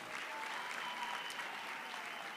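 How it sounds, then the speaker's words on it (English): Graduation audience at a university ceremony applauding steadily, a dense, even wash of clapping that holds at a constant level throughout with no voices on top. "give yourselves a round of applause there once again."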